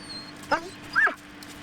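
A police dog gives two short high vocal yelps, a quick one then a longer one, fairly faint over a steady low hum, with near silence between them.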